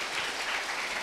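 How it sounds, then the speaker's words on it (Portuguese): A crowd applauds steadily, a dense wash of clapping filling the whole moment. "Então, uma salva de palmas para o Jansen aqui, pessoal."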